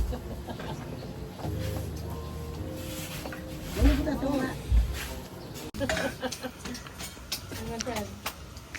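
Clucking from a rooster among chickens and chicks at a beach resort, intermittent calls mixed into a busy outdoor scene with people talking throughout.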